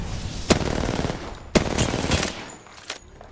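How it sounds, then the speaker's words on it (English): Automatic weapon fire in Apex Legends rattles in sustained bursts, with sharp loud shots punctuating a dense stream of gunfire, tapering off near the end. "They're shooting at me"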